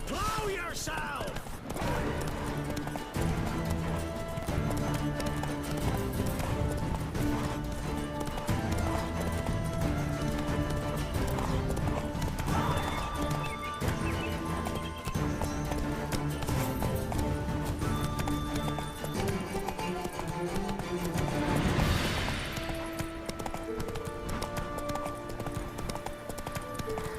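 Horse Roach galloping in the video game The Witcher 3: Wild Hunt, steady rhythmic clip-clop of hooves with an occasional whinny, running under game music and voices speaking.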